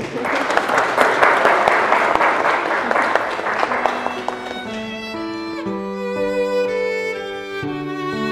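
Guests at a wedding ceremony clap in a loud burst of applause that fades after a few seconds as church-style music with sustained tones takes over.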